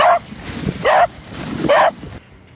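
A dog barks three times in a steady rhythm, each bark close and fairly loud, with a quiet indoor background between them.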